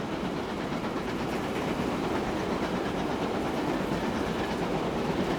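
A goods train rolls steadily past in Transport Fever 2, a continuous loud rumble with clickety-clack of wagons on the rails and no pauses.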